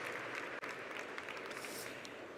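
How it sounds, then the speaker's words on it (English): Round of applause from an audience at an opening ceremony event, a steady wash of clapping at moderate distance, continuous and fairly even with a brief dip, no talk over it. "so you can definitely give them a big warm round of applause"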